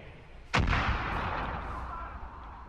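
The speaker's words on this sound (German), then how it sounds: "Dreimal geschossen, zwei erledigt." A single sharp, loud gunshot in the video game Far Cry 5, followed by a long rumbling echo that slowly fades.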